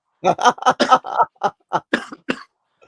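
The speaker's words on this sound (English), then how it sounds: "you still got that cough" A rapid run of about ten harsh coughs in quick succession from a cough lasting three weeks, close and loud, followed by a brief pause and a faint trailing sound.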